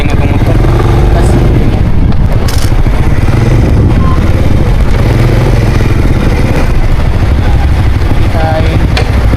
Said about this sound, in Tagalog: Suara din itong motor.